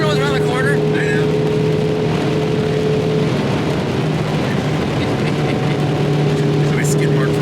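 A VW Cabriolet engine runs at full throttle with a steady, loud, droning roar heard from inside the car, while people talk over it.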